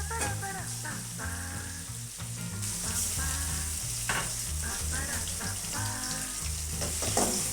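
Garlic and ginger frying in a pan for kaddu sabzi, a steady close sizzle with faint stirring scrapes, continuous and alone without talk.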